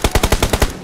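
Rapid bursts of automatic gunfire in a shooter video game, about seven sharp evenly spaced shots in under a second, loud and close with no talk over them.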